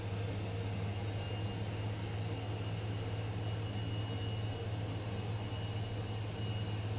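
A simulated aircraft engine on a runway in MSFS 2024 during a snowy Finland flight, throttled up slightly, makes a steady, loud droning roar with a strong low hum and broad hiss that holds nearly constant, with no voices.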